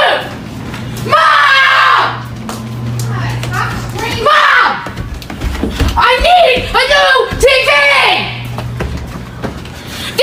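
A child screaming loudly and repeatedly in several drawn-out, shrill bursts nearby, with shouting and speech between the screams indoors.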